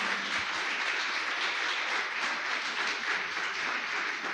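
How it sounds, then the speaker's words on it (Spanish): A church congregation breaks into sustained, loud applause during a sermon, a thick even wash of many hands clapping from start to finish. "dale un fuerte aplauso al Señor"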